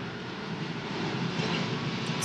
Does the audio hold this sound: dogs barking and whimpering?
no